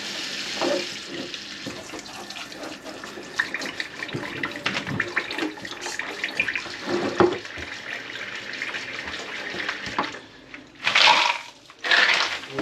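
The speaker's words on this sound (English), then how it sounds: "I'm going to have to rinse this off" Running tap water rinses range brass after wet tumbling, a steady splashing flow that grows louder with two strong bursts of spray near the end, no voices.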